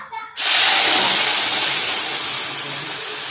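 Water hits a hot pan of roasted broken wheat with raisins, cashews, almonds and coconut, erupting into a loud, sustained steam hiss that slowly eases off, after a short stir at the start.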